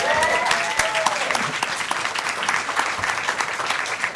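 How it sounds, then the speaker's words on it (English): An audience claps steadily for a woman being recognized for over two years of sobriety at a maternal opioid use disorder program, dense clapping that stays loud throughout with faint voices underneath. "We're going to give her a round of applause for that."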